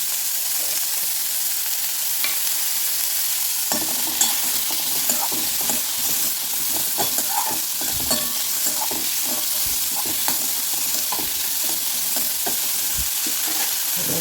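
Continuous sizzling of onions and tomatoes sautéing, growing busier after a few seconds, with frequent stirring scrapes and light clatter against the pan.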